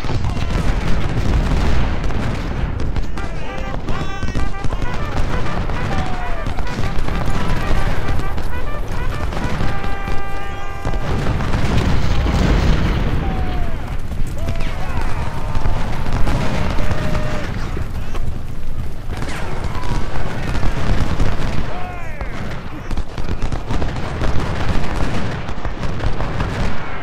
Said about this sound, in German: Ich höre da eine Kanone, ich mag die nicht.